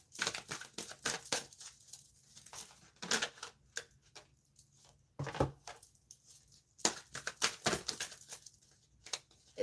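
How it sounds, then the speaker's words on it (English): A tarot card deck being shuffled, quiet bursts of papery riffling and card slaps in irregular clusters separated by brief pauses, close and soft. "Let me shuffle this deck a little better."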